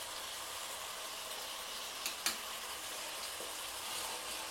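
Ginger garlic paste with tomato and onion frying in oil makes a continuous, even hiss and sizzle, with two sharp clicks of a utensil near the middle.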